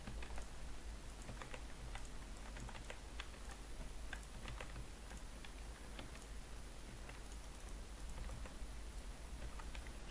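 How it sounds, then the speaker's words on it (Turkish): Rapid clicking of a mechanical keyboard rattles on continuously, close to the microphone and fairly quiet, with irregular keystrokes and no speech over it. "Ya klavyenin sesi inşallah fazla gelmiyordur. Mekanik klavye falan."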